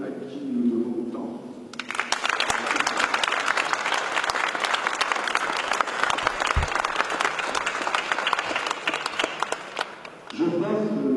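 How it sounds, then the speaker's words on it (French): A seated audience breaks into sustained, dense applause at an exhibition inauguration about the 1939–1945 war, loud and steady for about eight seconds, with a speaking voice briefly before and after the clapping. "je vous demande avec émotion d'applaudir à la fois Serge et son père, Pierre d'Écosse"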